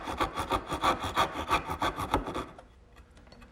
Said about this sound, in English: using my bandsaw, I've made a couple cuts to give me the correct tenon height